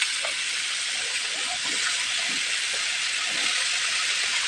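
Eggplant, potatoes and cut cabbage hitting hot spices in a cooking pan, giving a steady, loud sizzling hiss throughout with faint low clatter beneath.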